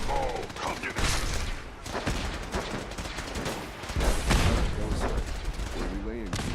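A robot in the video game Fallout 4 fires a laser in dense, crackling bursts of energy weapon fire. The blasts are loud and continuous, with talk and other game noise mixed underneath.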